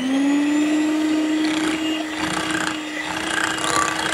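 An electric beater whirs steadily through whipping cream sweetened with powdered sugar, a sustained motor hum with a raspy whisking texture, close and fairly loud with no talk.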